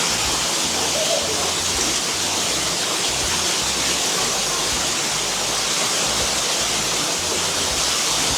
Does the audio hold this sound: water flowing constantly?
yes